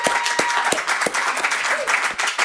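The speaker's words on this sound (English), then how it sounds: "please give a huge round of applause for the 50th guest on the Rochester Indie Musician Spotlight" A studio audience at a Rochester indie musician spotlight show applauds its musician guest with dense, lively clapping and some louder close hand claps standing out, sustained at full volume throughout.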